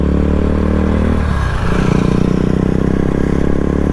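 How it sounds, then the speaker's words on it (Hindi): A KTM RC 200 motorcycle engine drones loudly and steadily while riding at night, a close continuous buzzing roar with a brief dip and swell midway, no talk. "और साउंड चेक कर रहे हो बाइक की।"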